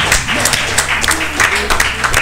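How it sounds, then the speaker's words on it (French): Audience applause at a Super Smash Bros. for Wii U (Smash 4) tournament match, a steady wash of clapping and crowd noise rising loud and close, with a few brighter bursts and a commentator's voice faintly mixed in. "Et la foule qui applaudit, hein, la foule qui est choquée."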